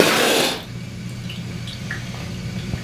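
Water gushes and splashes onto a floor beside a home aquarium being filled with fresh water for a clownfish tank. A loud burst for about half a second, then it drops to a faint trickle over a low hum.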